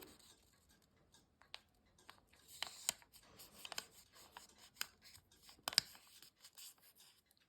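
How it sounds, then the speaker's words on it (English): Origami paper, white side up, is folded in half diagonally: soft rubbing and crisp creasing rustles, quiet and intermittent with a few sharper crinkles, no talk. "we will start with our paper, white side up, and fold it in half diagonally"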